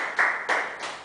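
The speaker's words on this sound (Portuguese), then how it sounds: "Podem aplaudir o Senhor Deus." Congregation in a church clapping in three short bursts, each a crisp swell of many hands that fades quickly, with no talk over it.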